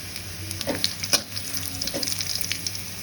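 Cumin seeds crackle in hot oil in a wok with onion and garlic. The sizzle stays continuous and nearby, with a few sharp spatula clicks and pops.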